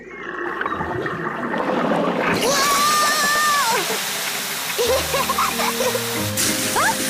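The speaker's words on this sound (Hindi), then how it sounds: "पेपा ने पाइप पकड़ी और डैडी पिग ने पानी शुरू कर दिया।" Cartoon water gushes from a hose pipe used to wash a car, starting with a sudden loud hiss and whooshing spray, then playful sloshing and squeaky effects follow.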